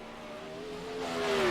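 A race car laps Eldora Speedway in iRacing, the No. 26 machine's engine humming and then steadily rising in pitch and volume as it accelerates, alone and fairly close.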